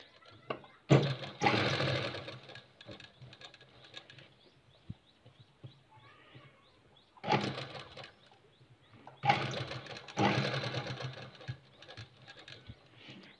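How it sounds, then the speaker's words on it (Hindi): Sewing machine stitching fine, small stitches on fabric, running in several rapid whirring bursts of a couple of seconds each, separated by quiet pauses with faint handling noises. "बिल्कुल बारीक सिलाई आपको यहाँ लगाना ताकि देखने में इसकी खूबसूरती बढ़ जाए"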